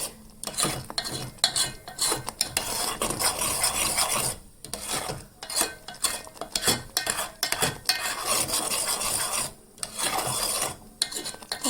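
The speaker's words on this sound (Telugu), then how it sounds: "ఒకసారి ఈ విధంగా బాగా మిక్స్ చేసేసుకోవాలి" A spoon rasps steadily against a pan while stirring grated fresh coconut with sugar, making continuous close scraping and rubbing strokes with brief pauses and no voices.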